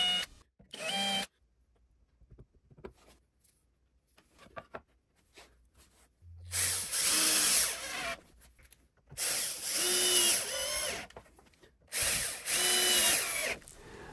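Power drill driving screws to assemble a wooden tracksaw launchpad platform, several short whirring bursts that rise as each screw seats, separated by quiet pauses with faint handling knocks and no talking.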